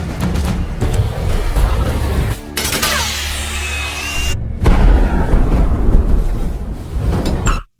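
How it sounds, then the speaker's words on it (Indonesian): A dramatic scene of a ship exploding, with booming blasts and rumbling destruction, heavy low roars and a sudden cut in the middle, loud and close. "saat kapal tersebut meledak"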